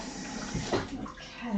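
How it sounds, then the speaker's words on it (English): A chopping board is rinsed under running water in a kitchen: a brief, close rush of water splashing onto the surface, steady for under two seconds. "just going to rinse off my board now"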